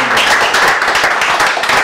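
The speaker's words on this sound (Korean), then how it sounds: "다시 한번 큰 박수" An audience at a lecture event claps in dense, continuous applause, loud and close.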